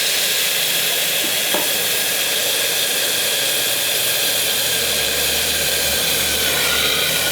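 Groundnuts dropped into hot oil for potato bhaji sizzle and fry in a steady, loud hiss close by, with a brief stirring clink early on and no talking.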